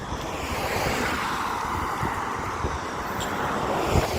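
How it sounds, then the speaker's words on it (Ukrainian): Strong wind in Moncton buffets the microphone in a constant, loud rushing roar with low rumbling gusts throughout. "Ой, вітер який класний."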